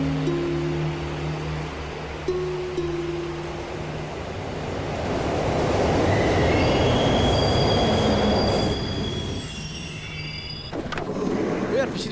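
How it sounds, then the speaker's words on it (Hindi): A Delhi metro train running, its steady rumble swelling to a loud rushing roar as it passes, then easing off with high metallic wheel squeals. "चल तुझे मेट्रो ट्रेन की सैर कराऊं"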